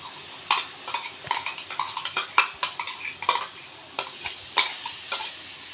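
Chopped tomatoes tipped into a pan of hot oil for paneer curry and stirred, with a steady sizzle beneath repeated scrapes and clinks of a spoon against the pan, close up and without talk.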